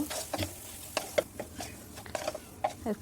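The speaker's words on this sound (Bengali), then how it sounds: "আলুগুলোকে ভালোভাবে আমি নাড়তে থাকবো" Potatoes being stirred with chili powder in a pan, a soft scraping and light sizzle with small clicks of the spoon against the metal, quiet and close.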